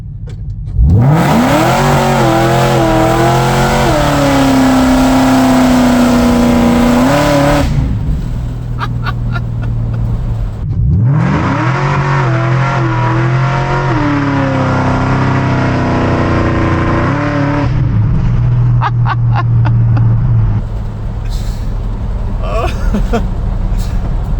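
A supercharged four-door SVT Cobra launches hard from a stop on a cold morning, its engine roaring loud and close as it climbs through rising revs twice, with a gear change and a brief lift in between.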